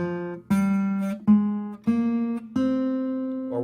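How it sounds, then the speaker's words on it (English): A guitar plays a minor scale as five plucked notes, each ringing clearly and then decaying, heard close and alone with no talking. "minor scale, which might sound like this."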